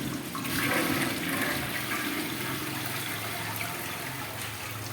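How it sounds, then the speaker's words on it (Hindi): A Bathsense flush valve on a toilet releases a strong, steady rush of water lasting several seconds, loud and close, with no voices over it. "अब दोबारा से हम इसको फ्लश करके देख लेते हैं"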